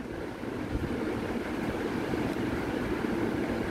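Water goes into a pot of soaked basmati rice, a continuous even rushing pour at moderate level lasting the whole stretch, with no talk over it.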